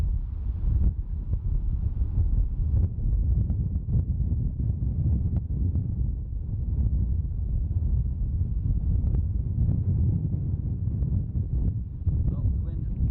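Strong wind at Dublin Airport buffeting an outdoor microphone, a loud continuous low roar with gusty fluctuations throughout, while a person talks over it.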